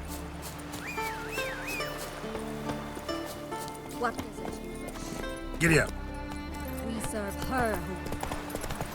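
Horse hooves clip-clop at a trot in The Witcher 3, with occasional neighs and a voice speaking briefly over the steady hoofbeats and a background music bed.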